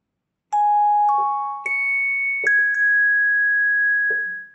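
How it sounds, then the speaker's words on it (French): Piano playing a station chime jingle, a short sequence of bright, ringing notes struck one after another, each left to sustain and decay, played alone and close up with no talking. "Vous allez d'abord jouer ce do dièse, qui est très aigu, et deux fois ce sol dièse, ce qui va vous donner tout simplement le jingle carillon"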